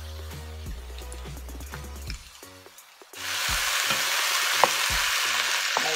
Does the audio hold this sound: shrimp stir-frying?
yes